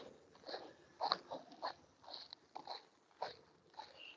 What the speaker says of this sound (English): The hiking steps on the loose rocks. Crunch, crunch, crunch.